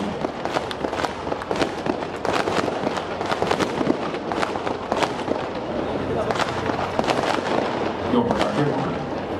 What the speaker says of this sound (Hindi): क्यों पटाखे फोड़े?